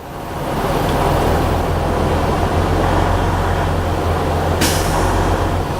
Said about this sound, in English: So I'm waiting for my governor cutoff to come on.